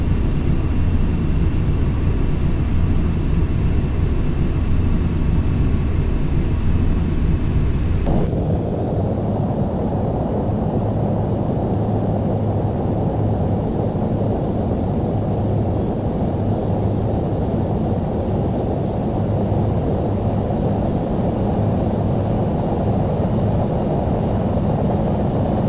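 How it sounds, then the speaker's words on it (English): Aircraft engine drone in a flight simulator game on an ILS landing approach with gear down and flaps extended, a loud continuous rumble that shifts tone abruptly early on, then holds steady throughout. "Lower the landing gear, slowly add full flaps, and reduce speed to 140 knots for the approach."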